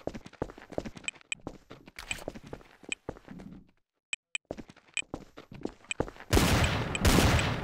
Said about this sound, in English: Shooting right now.